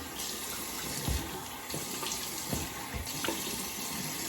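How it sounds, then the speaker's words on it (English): Steady stream of cold water running from a tap, a constant hiss with a few faint splashes and knocks, no voices. "All right, nice cold water rinse."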